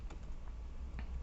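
Someone typing an IP address on a computer keyboard, with a few quiet, close key taps scattered over about a second.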